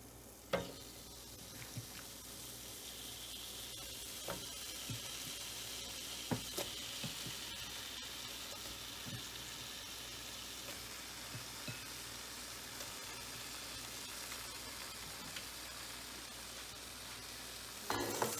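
Beef tips sear in a hot pan with a constant soft sizzle, broken by occasional sharp clicks and scrapes as the meat is stirred.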